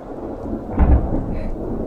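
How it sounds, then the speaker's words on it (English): Thunder rumbles through a storm in Rocky Mountain National Park, a deep loud swell peaking near the middle over steady rain hiss, heard from inside a small cave. "The storm's just gotten worse, so we're gonna wait a little while because the thunder and lightning's really worrisome"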